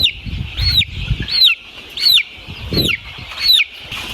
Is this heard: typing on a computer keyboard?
no